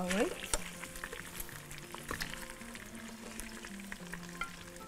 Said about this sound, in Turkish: Nasıl ses çıkıyor foşur foşur foşur foşur